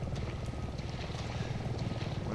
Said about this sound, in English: Helicopters are never a good thing in these games, I swear